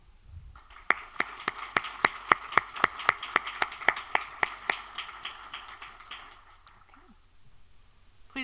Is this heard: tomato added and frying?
no